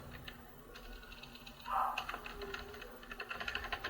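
Keys clatter in quick, uneven bursts of typing on a computer keyboard, fairly faint against a low background hum.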